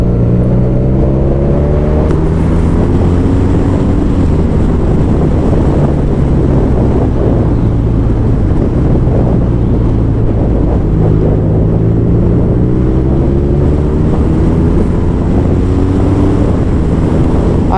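A BMW R nineT motorcycle riding on the road and accelerating, its engine drone rising in pitch through repeated gear pulls under heavy, loud wind rush.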